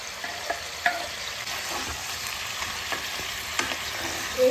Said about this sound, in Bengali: এইবার এটাকে ভালো করে মিশিয়ে দিচ্ছি, দিয়ে এটাকে ভাজতে দেবো।